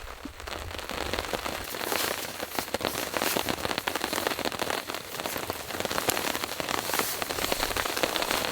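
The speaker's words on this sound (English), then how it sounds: "So you can hear the rain coming in." Rain pattering steadily on a camping tarp overhead, a dense close hiss of drops with scattered sharper taps throughout, no voices.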